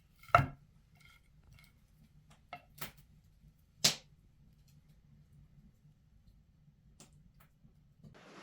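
Shriveled winter rosemary being chopped on a board, a few sparse, sharp knife taps spaced seconds apart over a quiet room background.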